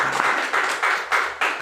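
An audience at a talk on staying healthy claps loudly in unison, with strong rhythmic bursts about every third of a second, close and energetic.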